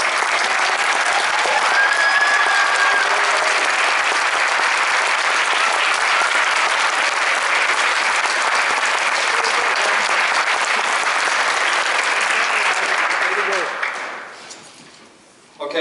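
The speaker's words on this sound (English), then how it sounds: "Can we all give them a big round of applause?" A high school band concert audience gives loud, sustained applause, a thick roar of clapping that holds steady for many seconds, then fades away near the end.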